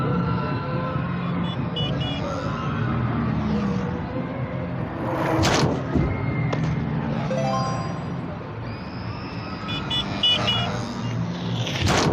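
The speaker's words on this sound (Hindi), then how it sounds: "ये कार सामने आ रही थी गाड़ी की।" In the Blind Drive video game, an oncoming car approaches head-on, its engine and road noise rising alongside synthetic alert tones and a brief crash-like burst, all fairly loud and continuous with no talk.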